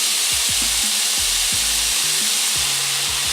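Pork slices fry in an oiled pan with a steady, close sizzle, broken by a few low knocks and scrapes, and no talking.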